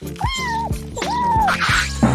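A cat meows twice in a row, two drawn-out close meows with a short gap, followed by a faint third call at the end.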